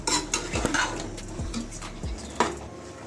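Maggi noodles and vegetables stirred in a pan, a utensil scraping and clinking against the metal in a few irregular strokes close by, with a light sizzle underneath.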